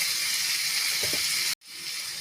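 Pieces of elephant foot yam dropped into hot frying masala, giving a steady loud sizzle that cuts out briefly near the end and then resumes.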